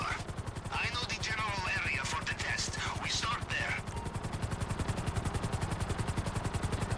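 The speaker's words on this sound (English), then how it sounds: "It's a very light helicopter." Light helicopter in GTA Online, its rotor chopping in a steady rapid pulse close by throughout, with talk over the first half.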